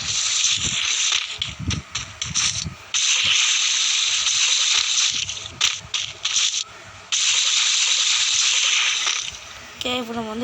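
Water churning and splashing in sustained bursts as people run and jump into it during swim training, loud and close, broken by brief pauses, with voices talking in between.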